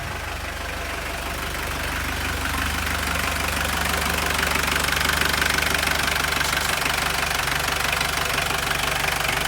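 A Mitsubishi L200 4D56 diesel engine idles after a snapped timing belt and rocker repair, a steady rattling clatter close by that grows slightly louder and holds evenly throughout, with no talking.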